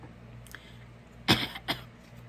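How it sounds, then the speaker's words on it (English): A woman's dry coughs or throat-clearing, two short close bursts in quick succession against a steady low background hum, no talking. "Hold on so I don't go into a coughing fit."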